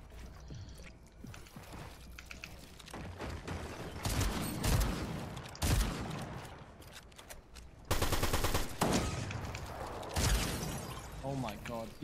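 Gunfire in the video game Fortnite, dense bursts of rapid shots and loud blasts around 4, 6 and 8 seconds, with game sounds and a voice talking over the action.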